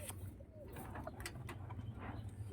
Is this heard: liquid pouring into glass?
no